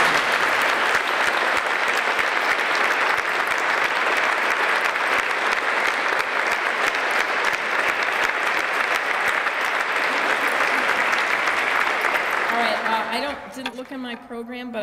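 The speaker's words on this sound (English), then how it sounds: "let's give them both a really a strong round of applause" A roomful of guests at a retirement reception gives a long, strong round of applause, steady and full for about thirteen seconds before tapering off as a voice begins to speak.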